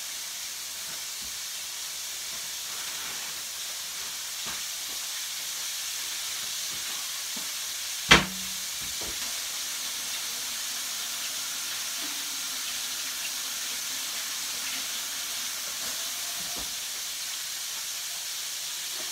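Cube steak sizzling in a pan for a Philly cheesesteak-style dish, a steady close hiss throughout with one sharp clack partway and faint scattered clicks, no talking.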